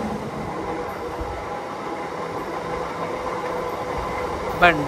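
A train rolls past on the neighbouring track in a steady, close rumble that holds throughout, with a brief high wheel squeal near the end.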